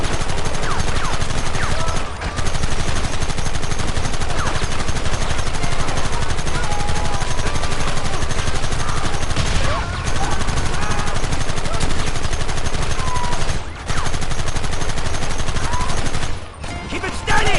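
Dense, sustained gunfire in Red Dead Redemption, rapid overlapping shots forming a near-continuous loud barrage with only brief dips, with shouted voices mixed in.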